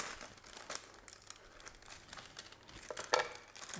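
Scissors snip down the center of a baked fish parcel for a Valentine's meal for two, giving a close, steady crinkling and crumpling of the wrapping with a sharper cut near the end.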